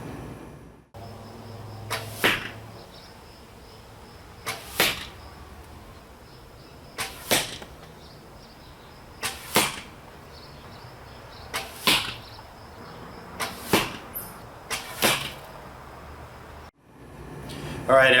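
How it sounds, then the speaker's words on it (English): Arrows whoosh past one after another after release from a traditional bow, split-finger and three-under styles, each a brief sharp swish at a steady interval of about two and a half seconds, close and clear over quiet outdoor background. "my microphone recorded the arrow flying through the air"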